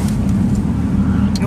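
A car drives along at speed with a steady low engine drone and road rumble, close and continuous, with people talking over it.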